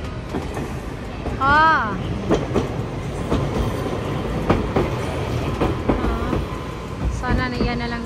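A train passes near a station in Kumamoto, Japan, with a steady rumble and rhythmic rail clatter under nearby voices, and a brief squeal rises over the noise.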